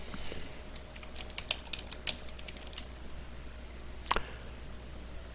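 Typing on a computer keyboard: a quick run of light, crisp key clicks, a pause, then a couple of sharper taps near the end, all quiet and close with faint background hum.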